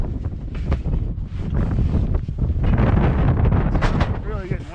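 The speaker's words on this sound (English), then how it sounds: "It's really getting windy out here." Strong gusts of wind buffet the microphone, producing loud, rumbling roar that swells and fades continuously throughout.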